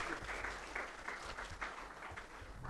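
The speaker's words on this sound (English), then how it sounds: "Give him a round of applause." Convocation audience at a hotel management institute claps for a guest chef, a brief burst of moderately loud applause with individual claps audible, heard from a distance in the hall.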